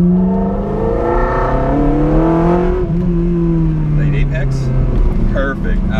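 A Ferrari 360 Modena accelerates hard on a track, its engine note climbing steadily in pitch through the gears, loud and close, with someone speaking over the roar.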